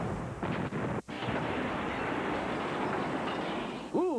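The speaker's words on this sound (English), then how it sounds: "One of the few things that is noticeable and is intended to be noticeable is an explosion." A loud, sustained explosive roar with heavy rumbling that fills the whole clip, briefly cutting out once, then ending in a whining, wavering tone.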